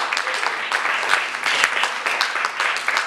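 A church congregation applauds and cheers, dense sustained clapping with raised voices filling the space for a few seconds.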